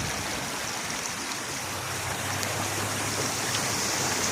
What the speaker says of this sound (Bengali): আমি দীর্ঘ 7-8 বছর ধরে এইরকম বৃষ্টি দেখছি।